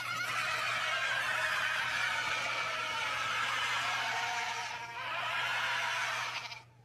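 A goat screams in one long, loud, strained cry that holds steady for several seconds close by, dips briefly, then surges again before cutting off, with no talking.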